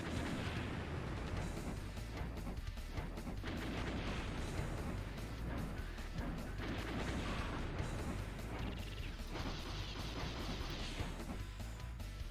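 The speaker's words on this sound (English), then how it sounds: "they just get in the boss's face and chuck grenades until it stops moving" Repeated grenade blasts during a boss fight in the NES game Blaster Master, dense chiptune explosion bursts over continuous game music, steady and loud throughout.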